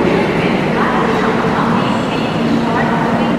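A busy platform at Sealdah railway station, with the Sealdah Puri Duronto Express standing by, fills the air with a steady, loud rumble of rail noise mixed with the bustle of voices.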